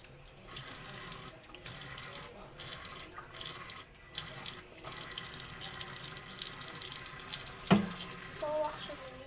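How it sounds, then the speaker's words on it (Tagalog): Water runs steadily from a sink tap while hands are washed with soap, a continuous close splashing stream with small shifts as hands move under it and a brief knock near the end. "Hugasan ko lang yung kamay ko."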